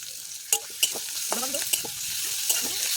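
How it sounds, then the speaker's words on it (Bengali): Onions fry in a home kitchen pan, a soft steady sizzle broken by a few sharp clinks and scrapes of stirring, close and fairly quiet. "পেঁয়াজ ভালো ভাজা হবে"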